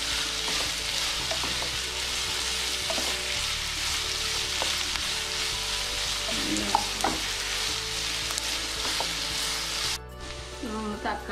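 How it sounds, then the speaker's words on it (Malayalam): Sliced onions sizzle in a pan while being sautéed for a Kerala-style squid roast, a steady frying hiss with occasional stirring clinks and scrapes, dropping suddenly quieter near the end. "സവാളയൊക്കെ ഒരുവിധം വഴഞ്ഞു."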